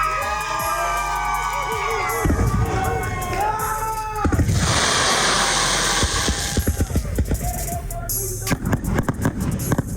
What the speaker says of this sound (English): From Bethune-Cookman, round of applause for Coach Mike Hammer